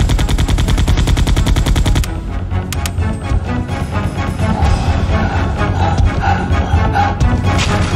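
Gunfire from Resident Evil 2 on the PlayStation, with a dense rapid burst of machine-gun shots, then continued heavy shooting and crashes under loud game music, close and sustained.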